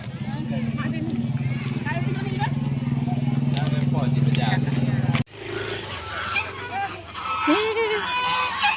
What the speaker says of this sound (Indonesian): kawanan angsa